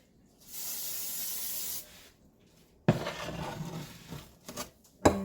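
Cooking spray hisses from a can into an iron baking pan in a kitchen, one steady burst of over a second, then clattering knocks and handling of the pan close by.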